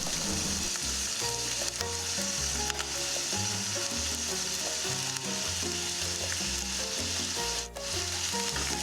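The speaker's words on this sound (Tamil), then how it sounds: "இது கூட நம்ம நறுக்கி வச்ச பூண்டு, பச்சை மிளகா, கருவேப்பிலை சேர்த்து சாட்டே பண்ணிக்கலாம்." Chopped garlic, green chilli and curry leaves sautéing in groundnut oil for a fish puttu dish, a continuous close sizzle and crackle with stirring sounds and no talking.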